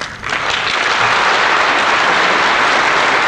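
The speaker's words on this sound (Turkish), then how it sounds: "onlara da hep beraber bir alkış rica ediyorum ben" A crowd at a concert breaks into loud applause that builds within a moment and holds steady, dense and sustained.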